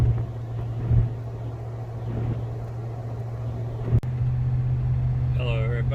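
A Ram pickup truck drives along with a steady low engine drone and road hum heard from inside the cab, broken by a sharp knock partway through.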